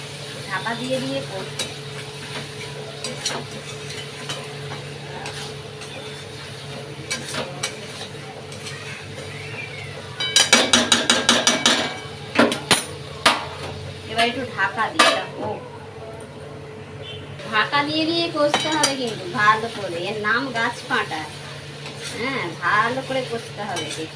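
Prawns and jackfruit being stir-fried in spice paste in a pan, with repeated clinks and scrapes of a utensil against metal in bursts, a low steady hum underneath and a voice speaking at times.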